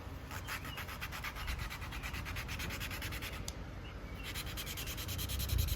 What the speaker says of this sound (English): once you've lapped the valves for a good amount of time, made sure that the surface is kind of even